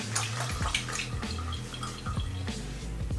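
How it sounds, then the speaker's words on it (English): Water running and dripping from a tap into a sink while getting ready to shave a bald head, close splashing and drips layered over a low musical background. "Let me add a little bit more water."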